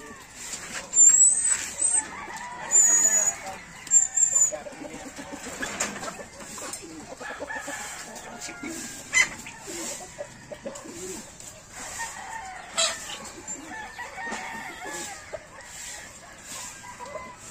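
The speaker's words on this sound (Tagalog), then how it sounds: "Ayan, tandang namin." Free-ranging backyard chickens, including a rooster, call out in a yard, with several bright crows and clucks near the start and scattered bird calls over quieter outdoor noise.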